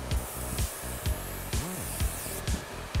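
Hairspray sprayed onto hair during a styling session, with several short, close bursts of hiss repeating in quick succession over a continuous whooshing background.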